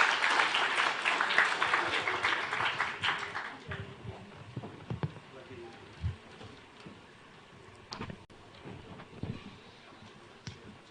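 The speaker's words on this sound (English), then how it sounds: "A great round of applause, please." An audience at a live institutional celebration event applauds loudly at first, and the clapping thins to scattered claps as it fades.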